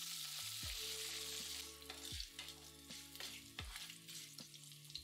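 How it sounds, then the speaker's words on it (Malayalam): Ginger, dried and green chillies and curry leaves sizzle in hot oil while making lemon rice, a steady close crackle broken by a few scraping stirs of a spoon in the pan. "3 ഉണക്കമുളക്, 3 പച്ചമുളക് കീറിയത്, കുറച്ച് കറിവേപ്പില, ഇത്രയും ഇട്ട് ഏതാനും സെക്കൻഡ് മൂപ്പിക്കുക"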